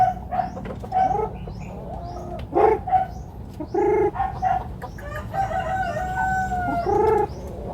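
Native chickens close by in a rural yard, sounding repeated clucks and short coos in uneven bursts, with hens calling over one another at moderate loudness and no human voices.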